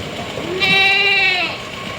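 A Kathiawari goat gives a single loud, drawn-out bleat in the middle of the clip, close to the microphone, with background noise before and after.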